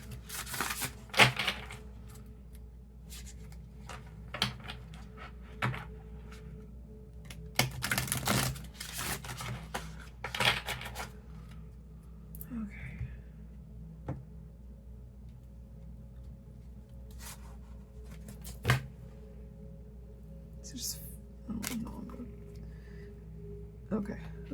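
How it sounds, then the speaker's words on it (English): A Psychic Tarot Oracle card deck is shuffled by hand in soft, irregular bursts of riffling and tapping, close and fairly quiet, with gaps between them. "I'm going to shuffle this a couple of times."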